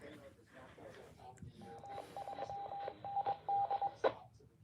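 Morse code beeps play as a steady mid-pitched tone in dots and dashes over a couple of seconds, ending in a sharper blip, set against a faint murmuring background.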